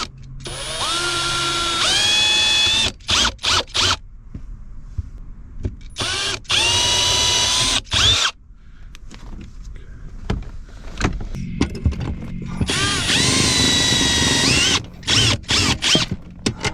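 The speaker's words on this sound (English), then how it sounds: "I marked them a little too far to the left, so I'm gonna drill it" A power drill bores into a van's metal panel in several loud whining bursts that rise in pitch, separated by short pauses and clicks, with some background noise between runs.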